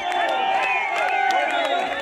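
A crowd gathered outside Tenwek High School, a steady murmur of many voices with scattered shouts, under a foreground voice speaking.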